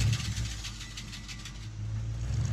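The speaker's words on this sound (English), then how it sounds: "hear that familiar rumble of that" A V8 car engine rumbles steadily at idle, a deep low throb that swells slightly toward the end, with no voices over it.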